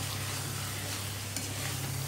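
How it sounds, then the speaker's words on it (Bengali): Spiced curry base sizzles steadily in hot oil in a pan as it is stir-fried, a constant close crackling hiss with a low hum underneath and no talking. "ঢাকা দিয়ে আবার রেখে দেবো, আবার একটু কষানো হবে।"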